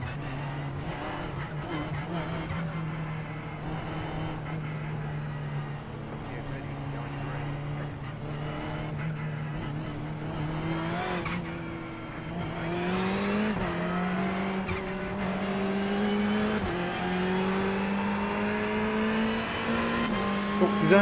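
Race cars pull away at the start of a race with a steady engine drone that rises in pitch and grows louder as they accelerate. A voice talks over the engines.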